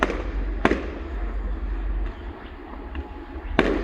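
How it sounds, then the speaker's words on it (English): Small consumer fireworks going off at a public display: two sharp, fairly loud bangs about three seconds apart, with fainter crackles and pops from farther off against a low outdoor rumble. "Yeah, they're not up to much, them little fireworks."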